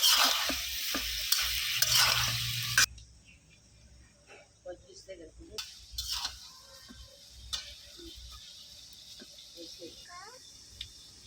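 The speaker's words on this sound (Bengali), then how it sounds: "তরকারিটা লাইরে চেয়ে ভালোভাবে সুন্দর করে কষাই নেব।" Cauliflower curry being stirred and sautéed in a pan, with loud sizzling for the first few seconds, then quieter scraping and clinking of a spoon against the pan over a soft background hiss.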